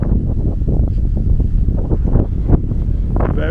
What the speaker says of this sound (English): Very windy, very peaceful.